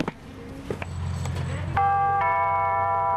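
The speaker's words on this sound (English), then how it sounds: "So they installed this doorbell" A video doorbell chimes, a bright electronic tone ringing out in a couple of sustained notes after a few soft clicks.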